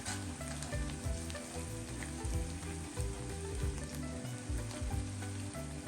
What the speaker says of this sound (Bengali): ছোট এলাচ তেজপাতা গোলমরিচ সবগুলো দিয়ে একটু ভালো করে ভাজবো